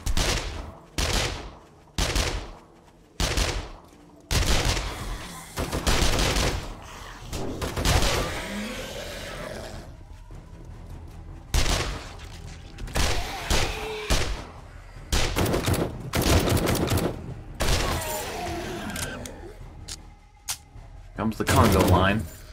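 Repeated bursts of gunfire from several guns in the zombie survival game 7 Days to Die, loud and close, in short rapid volleys and single shots while someone talks between and over them.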